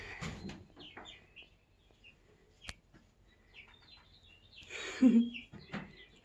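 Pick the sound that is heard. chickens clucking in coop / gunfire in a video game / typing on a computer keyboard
chickens clucking in coop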